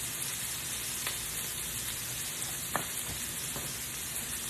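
Turkey burgers frying in a pan over medium-high heat give a steady, close sizzle with faint scattered pops and crackles, with no voices.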